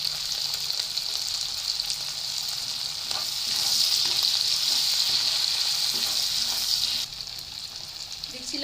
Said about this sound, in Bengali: পেঁয়াজ টমেটো হালকা ভাজা ভাজা হয়ে গেছে।